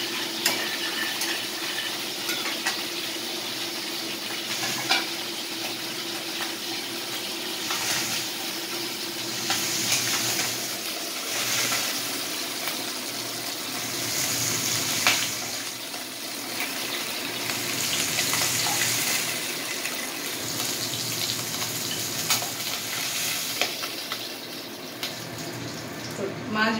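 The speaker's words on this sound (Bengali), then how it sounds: "মাছ ভাজা ইজ ডান।" Tangra fish fry in oil in a pan with a continuous hiss and sizzle that swells and fades in waves, along with occasional clinks of utensils and a faint background of running water.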